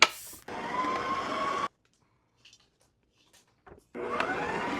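Kitchen stand mixer running on low while mixing bread dough with milk, yeast and egg, a steady motor whir in two bursts separated by a near-silent pause.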